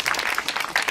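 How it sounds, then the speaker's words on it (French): Steady clapping from a festival audience after a project presentation, dense and continuous, close by with no voices over it. "on vous applaudit"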